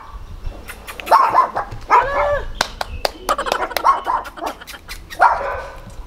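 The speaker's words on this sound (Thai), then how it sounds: "มันไปเห่าแมว" A dog barks at a cat in a quick, irregular run of sharp barks and yips close by, mixed with clicks and slaps, while a voice speaks faintly underneath.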